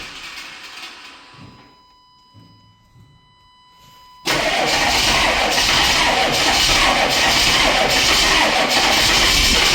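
A 1995 Chevy 3500 1-ton dump truck with a 6.5L Detroit Diesel that is hard to start: after a faint crank it fires abruptly, then runs loud and rough as it is revved, a coarse steady roar.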